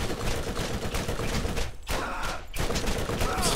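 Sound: pistol gunfire in the video game Borderlands

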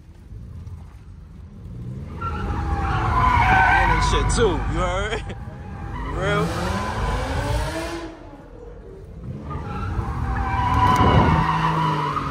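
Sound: tuned Infiniti G37 tires skidding, breaking tires in

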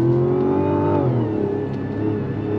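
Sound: Mazda CX-90 straight-six engine accelerating

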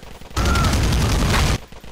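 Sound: gunfire in the GTA IV video game

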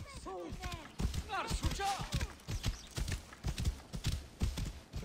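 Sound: horse hooves walking in video game Assassin's Creed Origins

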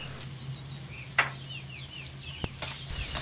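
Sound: stirring green chili ginger paste and turmeric into frying pan

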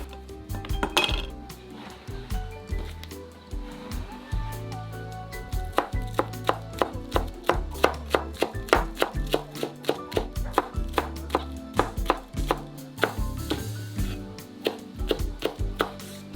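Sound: chopping green onion with a knife

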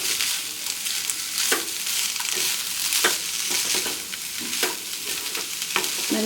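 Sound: stirring chicken filling with pepper and garam masala in pan

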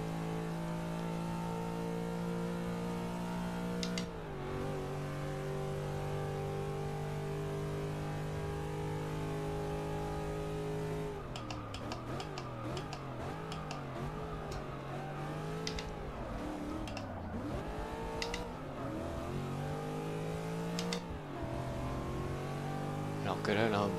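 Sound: race car engines in the video game Forza 6 at Monza

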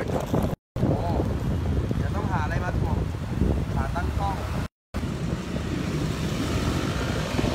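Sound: strong wind blowing on the microphone outdoors

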